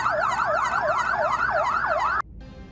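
An ambulance siren wails loudly and steadily in a rapid rising-and-falling pattern, then cuts off abruptly, leaving quieter background noise, with no talk.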